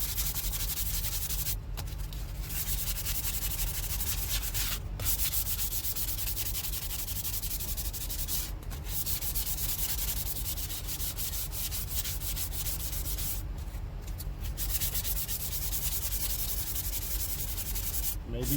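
Fine 400-grit sandpaper rubs over a hardened super glue coating on a foam steering wheel, a steady dry scratching that runs continuously and close up with only brief pauses.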